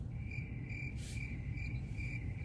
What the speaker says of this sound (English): Make sure you put crickets right there